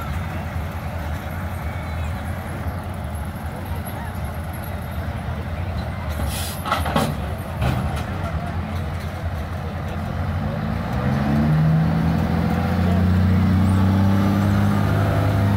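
A diesel truck at a county fair truck pull gives a loud, continuous engine roar that rises and shifts in tone near the end, with crowd noise in the background.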